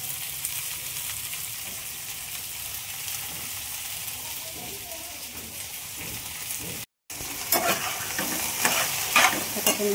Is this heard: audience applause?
no